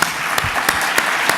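The crowd at a regional all-star sports gala applauds: steady massed clapping with a few louder individual claps standing out, at moderate volume.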